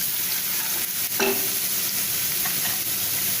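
Green chillies being stir-fried in a pan for pickle, giving a constant bright sizzle with one sharp spatula scrape near the start and a fainter one later, close up and without speech.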